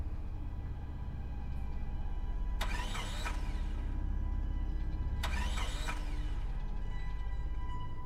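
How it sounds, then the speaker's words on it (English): A car engine cranks twice with rough, repeated churning bursts, each lasting under a second, over a steady low engine rumble heard up close. "I gave the key one last turn, and to my relief, the engine shuddered to a start."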